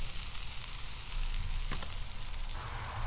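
Mushrooms and green onion sizzle steadily on a hot Blackstone griddle, a dense even crackle with a brief scrape of stirring near the middle.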